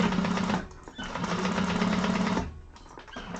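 A sewing machine stitches a seam on a hobo bag with a steady, fast, close mechanical whir. It slows briefly near the end and then resumes.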